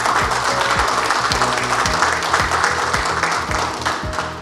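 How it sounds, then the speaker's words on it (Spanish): An audience at a book launch applauds the author in a sustained, dense round of clapping, with a low rhythmic musical thumping underneath throughout. "Yo quiero un fuerte aplauso"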